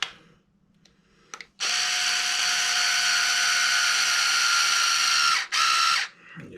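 A power tool drives M3 screws into a Traxxas 4-Tec body mount, giving a few faint clicks and then a loud, steady whine lasting about four seconds, briefly cut off, followed by a short second burst.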